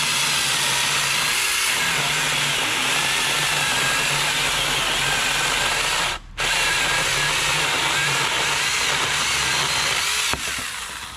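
A 4-inch cordless electric chainsaw powered by two 21V lithium batteries cuts through a roughly three-inch piece of wood, a loud, steady whine that dips briefly once, then resumes until the end.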